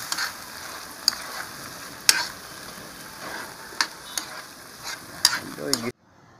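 Mung beans cooking in a pot and being stirred, with a low background sizzle and a handful of sharp scraping clicks of a utensil against the pot before it cuts to silence.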